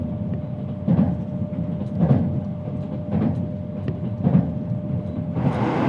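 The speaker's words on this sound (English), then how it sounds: "The train rolled right along the water's edge, giving us a brilliant view of the Pacific Ocean as we neared our final stop." A train running along the Pacific coast in Japan, heard from inside as a steady rumbling roar with rhythmic clickety-clack beats about once a second, continuous and fairly loud.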